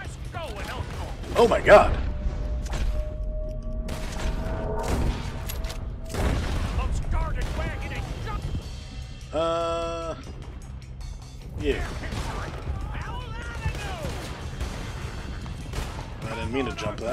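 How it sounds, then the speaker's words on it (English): Enemy gunfire in Red Dead Redemption 2, with scattered distant and mid-range shots cracking over a rumbling background, while someone speaks at times. "now they're shooting at us"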